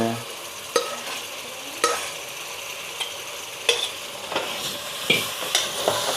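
Mutton boti curry being stirred in a pot, a ladle scraping and knocking at intervals over a soft steady sizzle, with sharp clinks roughly every second.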